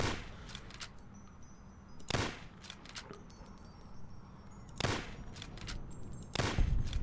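Gunshots in the Fallout: New Vegas video game, about five sharp loud cracks at irregular intervals over a quiet ambient background.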